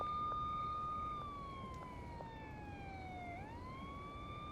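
A police car siren from a video game wails steadily, then sweeps down and back up in pitch, fairly loud and alone with no talk over it.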